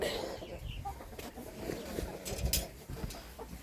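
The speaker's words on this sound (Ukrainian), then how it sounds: "О, там несеться вон курочка якраз." An Australorp hen clucks softly in the coop while she lays an egg, her low calls close by among faint rustling and barnyard noise.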